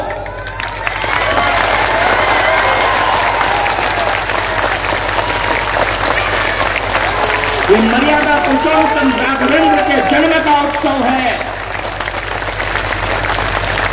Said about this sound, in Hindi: तालियों का ऐसा विस्फोट हो कि लगे कि कोई ज्वालामुखी फट पड़ा हो